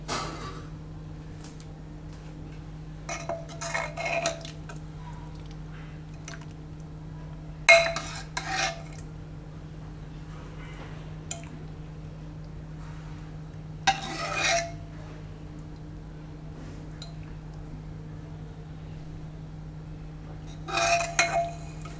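A spoon or ladle clinks against a pot and bowl in a few short, separate bursts while mixed dal and bottle gourd curry is served, against a low steady hum in a quiet kitchen.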